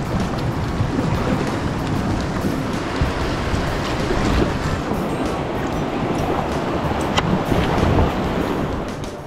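River water rushing near a waterfall on the Cardinal River, a dense continuous roar with wind buffeting the microphone, steady throughout and no voices.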